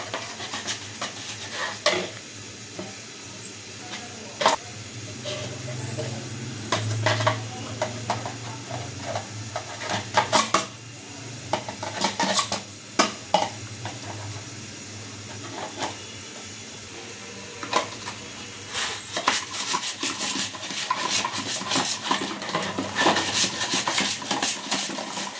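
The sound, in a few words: cooking in a kitchen with pots and pans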